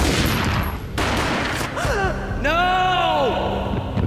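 A gunshot in the Max Payne video game booms during a slow-motion sequence. Sharp blasts are followed by drawn-out, warped, bending tones and a gasping sound.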